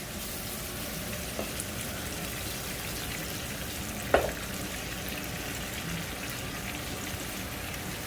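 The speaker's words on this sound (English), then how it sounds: "So here we're just cooking the lobster." Lobster pieces cooking in a pan with ginger, scallion and garlic make a steady, moderate sizzle with a gentle bubbling undertone and one brief clatter partway through.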